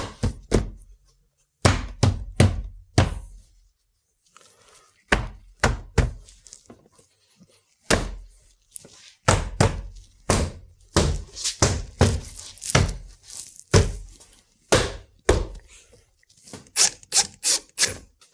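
A Jeep WJ interior door panel being pressed back onto the door, giving many loud hollow thunks and knocks in irregular bursts, close by, with brief silences between hits and no talking.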